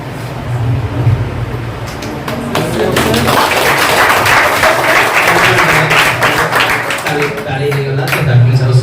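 A classroom audience at a teachers' motivational speech breaks into sustained, dense clapping that holds steady and loud for several seconds, with a low hum of voices mixed in.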